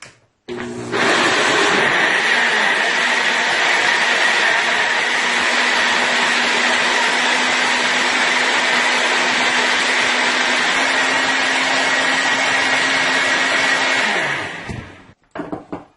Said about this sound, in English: now I am going to go ahead and I am going to blend this